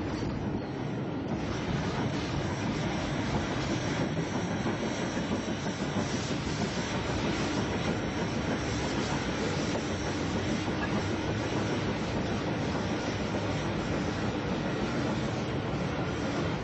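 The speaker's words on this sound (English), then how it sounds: "one of Maunsell's N-class moguls, introduced on the Southeastern Chatham in 1917, passes through the station" A Maunsell N-class mogul steam locomotive, a Southeastern and Chatham engine class from 1917, runs through a station with a steady broadband rush and hiss, heard loud and continuous throughout with no talk over it.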